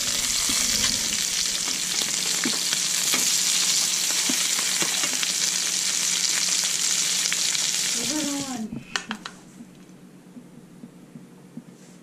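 Halibut fillets sizzle loudly in a pan on a small electric stove, a steady crackling fry that cuts off sharply near the end, leaving faint clinks and quiet room sound.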